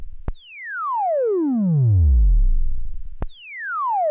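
A Moog Matriarch oscillator swept by a sawtooth LFO: the pitch leaps high, then slides steadily down over about three seconds before jumping up again, a loud, clean repeating synth glide with no voice.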